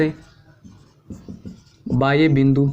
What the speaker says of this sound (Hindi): अब मैं सीधा लिख रहा हूँ